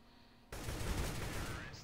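Gunfire in Counter-Strike: Global Offensive erupts abruptly after a quiet lead-in, a rapid dense burst of shots filling the space loudly before easing slightly toward the end.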